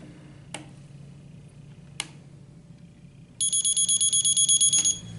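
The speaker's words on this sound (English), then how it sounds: "Now we'll set it for alarm tone A." After two faint clicks, a medication reminder device sounds a shrill electronic alarm tone, beeping rapidly in a steady pulsing series, loud and close.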